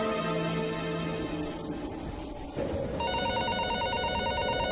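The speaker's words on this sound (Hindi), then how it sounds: "तभी फिर से कमरे में रखे फोन पर कॉल आया।" A telephone rings with a steady pulsing electronic tone that starts partway through, over a dense background hum.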